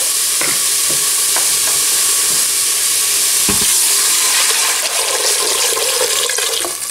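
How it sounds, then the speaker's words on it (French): Water poured into a hot pan for a shrimp soup, a steady loud hiss and sizzle with scattered splashes and clinks, no talking. "Je vais arroser avec de l'eau."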